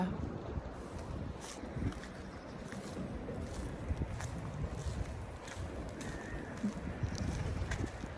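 A boat moving along a canal in the morning, with steady low water and engine rumble, wind buffeting the microphone, and occasional faint birds and distant voices.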